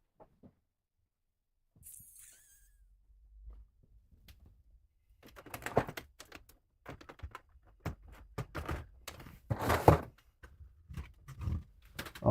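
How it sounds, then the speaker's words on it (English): Typing on a wired computer keyboard, irregular clusters of close key clicks and taps that start quietly and grow busier toward the end, heard alone. "let's get a wired keyboard."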